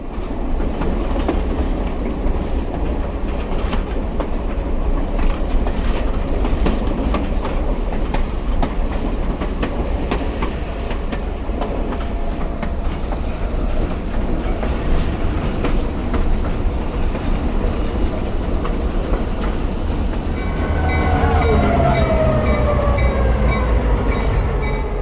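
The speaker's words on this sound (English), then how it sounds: "He's disconnecting the engine now." A train rolls on the rails as the engine is uncoupled, with a loud continuous rumble and clickety-clack, then a squeal of wheels against the rails near the end.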